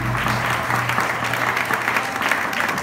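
A crowd claps loudly and steadily throughout at a Spanish republican festival proclamation, a dense, continuous wash of applause with a low hum running underneath.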